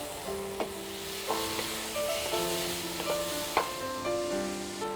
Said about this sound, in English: We'll mix this well and cook it on a medium flame for 1 minute.